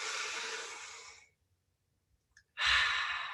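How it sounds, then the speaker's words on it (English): A person takes a deep breath in and lets it out slowly, a soft airy sigh that fades into silence before another breath starts. "go ahead, take a deep breath in"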